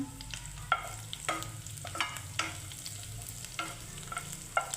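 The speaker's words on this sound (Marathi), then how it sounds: "आपण इथे हळद टाकून घेऊया आता मिक्स करूया" Garlic, green chili and turmeric stirred in a hot pan for a vegetable sandwich filling: repeated spatula scrapes and taps over a soft sizzle, close and fairly quiet, no voices.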